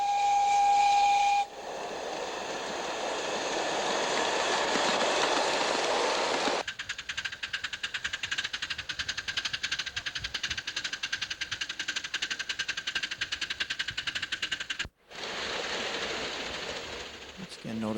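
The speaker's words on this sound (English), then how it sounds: "here comes Bob Darr in his little narrow gauge locomotive" Bob Darr's small narrow gauge steam locomotive on the St. Croix Railroad gives a shrill whistle, then passes with loud steam hiss and a fast chuffing beat before another hissing burst at the end.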